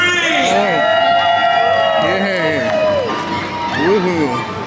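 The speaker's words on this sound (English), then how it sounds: "Great big cheer from everyone." A crowd of revelers at Mardi Gras in Universal Orlando lets out a loud, sustained group cheer, with whooping, rising voices close by over a steady background roar.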